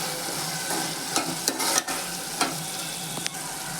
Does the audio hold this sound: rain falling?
no